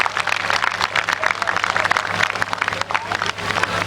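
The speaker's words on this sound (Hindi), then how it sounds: "एक बार उनके लिए सभी लोग जोरदार तालियां बजाएंगे" An audience at a JEE Main results celebration applauds for students with dense, steady clapping and some crowd noise throughout the short burst.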